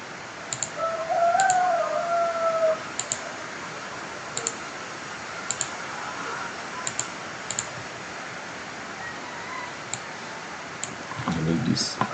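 A computer mouse gives scattered single and double clicks, crisp and close, spaced a few seconds apart over a quiet background during Revit building-modelling work.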